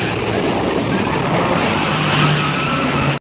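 A car pushes forward with a steady, loud roar of engine and road noise that holds evenly for a few seconds before cutting off abruptly.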